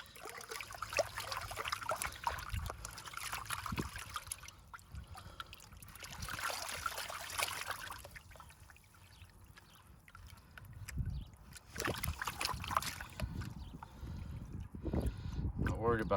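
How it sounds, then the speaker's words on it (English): Gold panning tailings from a mini high banker drop-riffle sluice sloshing in water, with intermittent trickles, swishes and splashes rising and falling in bursts, fairly close, alongside a speaking voice at times. "I'm gonna pan this real quickly and see if there's anything in here."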